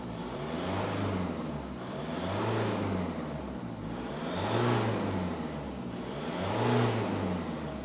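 A bog-stock Nissan Patrol with a ZD30 diesel engine and standard exhaust runs steadily nearby, a smooth, even drone that swells gently every couple of seconds.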